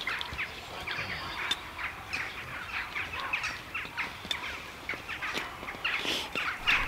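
A massive flock of roosting birds calls and chirps at once in a dense, overlapping chorus, coming from above and all around a campsite, steady and busy throughout.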